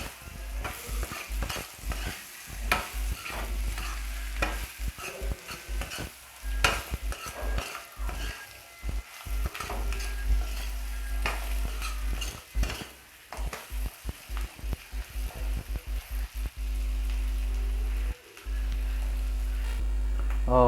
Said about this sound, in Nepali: यो कस्तो मजाले पाकिरहेको छ होइन